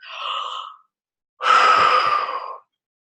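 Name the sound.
deep breaths, breathing out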